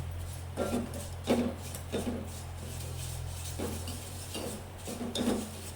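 Vermicelli frying in ghee in a pan with a spoon scraping and stirring it: soft repeated scraping strokes and light clinks over a low steady hum, close by, with no talking.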